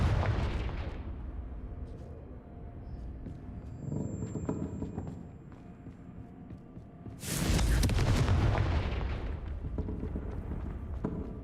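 A Confringo fire-blast spell explodes in the Hogwarts Legacy video game, a loud roaring burst near the end following an earlier rumbling blast and a dull background rumble.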